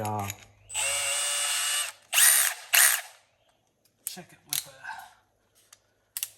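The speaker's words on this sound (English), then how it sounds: "That has been my least freaking favorite thing to do in the garage, is drilling on that Kubota" A power drill bores into a Kubota tractor in a garage, whining in one sustained run and then two short bursts. Brief clicks and rattles follow in the near-quiet afterward.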